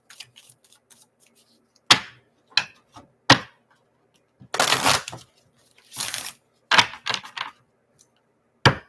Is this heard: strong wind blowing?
no